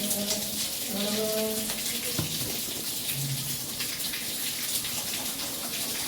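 Face washed under running water in a boys' hostel bathroom, a steady close rush of flowing water throughout, with brief voices and a few clanks at the start.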